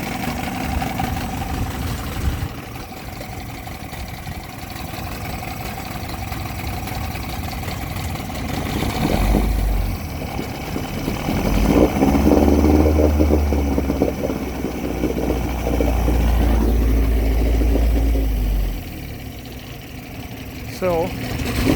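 A 1963 Evinrude outboard motor idles on a Sea Star boat with a low, uneven running rumble through most of the clip. A voice talks over it and the motor swells louder around the middle.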